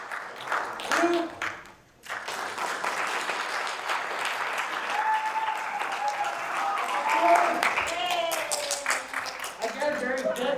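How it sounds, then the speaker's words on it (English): Audience applause at a live magic show, a sustained burst of clapping with crowd noise and voices mixed in, fairly loud throughout after a brief dip. "One round of applause."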